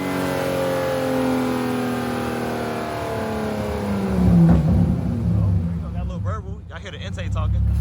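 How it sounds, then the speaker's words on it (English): A car engine idles steadily in park, then revs up sharply near the end with audible intake noise, a person talking excitedly over it. "I never really heard my car from like hitting the gas like this in park."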